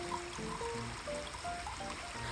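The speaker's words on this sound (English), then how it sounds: "I had put a half a cup in there, so I need a whole cup of water in here." Water trickles and splashes as it is poured into a container for making oatmeal at a camp in the woods, a short, steady, gurgling pour close by.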